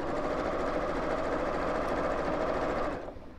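A sewing machine runs steadily, top stitching around a purse with a pearl bead handle, a fast even mechanical whir close by that stops abruptly near the end.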